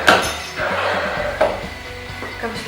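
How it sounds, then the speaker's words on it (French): Aerospace-grade aluminium sheet being cut in a training workshop, giving a few sharp, close metallic clinks and knocks spaced over a low, steady background. "Entre-temps, j'ai coupé la tôle"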